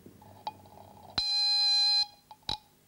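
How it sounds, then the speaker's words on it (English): Homemade bimetallic strip fire alarm sounding near a candle flame: a short beep, then a sustained shrill electronic tone of almost a second, followed by brief chirps as it cuts in and out. "Fire goes out, alarm goes off."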